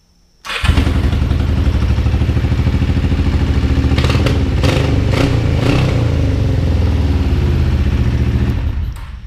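Kawasaki 454 LTD motorcycle engine, warmed up after restoration work and a new ignition coil, catches at once and runs steadily and loud with a throbbing idle right up close, with a few brief blips of throttle midway before it is cut.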